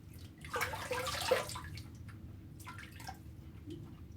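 Water splashing as hands wet a face for a shave, a short burst of close splashing and dripping that fades into quieter trickles and faint drips, with no talk.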